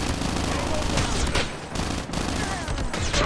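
Sustained automatic gunfire and scattered shots in a Call of Duty Mobile Hardpoint match, loud and continuous with brief dips, dense bursts crackling throughout.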